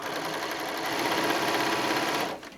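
A sewing machine stitches a quilt block made from fat quarters, running in a fast, steady, close mechanical whir before stopping near the end.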